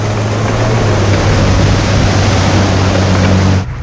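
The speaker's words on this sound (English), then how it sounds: "maneuvering through water and mud," A military tank engine drones loudly and steadily as the vehicle churns through water and mud, a constant rumbling roar that cuts off abruptly near the end.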